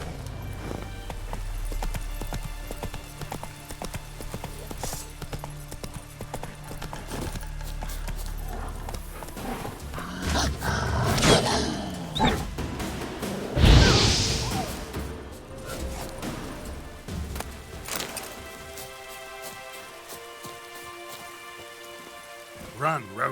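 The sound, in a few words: horse galloping in the rain in The Witcher 3 video game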